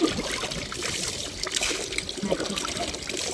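Water trickles and splashes steadily, a close, continuous pouring sound, poured over someone during a soapy bath, with faint voices in the background.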